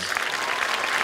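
Audience applause for graduates at a high school commencement ceremony, a dense, steady wash of many hands clapping filling the hall for about a second.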